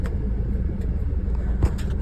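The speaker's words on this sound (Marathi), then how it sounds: "आता गाडी लावतो" A car pulls in to be parked on arrival at home in the rain, its engine a steady close rumble with a brief louder bump near the end and no voices.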